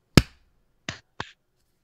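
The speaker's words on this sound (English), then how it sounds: "We're going to do a clap." Three sharp, isolated hand claps for syncing a recording: one loud, then two quicker, slightly softer ones close together, each crisp and dry in a quiet room.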